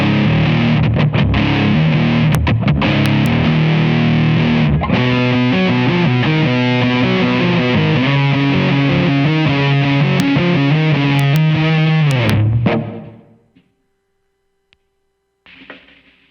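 Heavy fuzz-distorted electric guitar played through a fuzz pedal and Rocktron Hush noise gate, a loud sustained riff with shifting chords that cuts off sharply into near silence, then a brief burst returns at the end.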